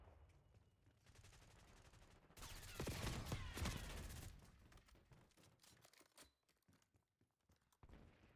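Light machine gun fire in a video game, building to a dense, loud burst in the middle before thinning to sporadic shots and movement noises.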